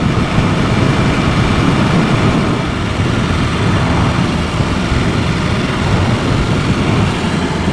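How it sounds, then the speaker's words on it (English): A BMW S1000 RR motorcycle engine braking while riding, a loud, continuous low engine drone with heavy wind rush, steady throughout with no voices. "To be fair, it's a nice bit of engine brake."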